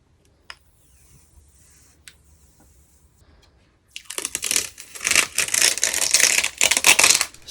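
Protective plastic film being peeled off an Asus ROG Strix GeForce RTX 3080 OC graphics card: after a few seconds of near silence with faint taps, a loud, close, continuous crinkling and tearing rustle of plastic runs to the end.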